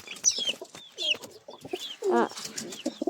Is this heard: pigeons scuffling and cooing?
yes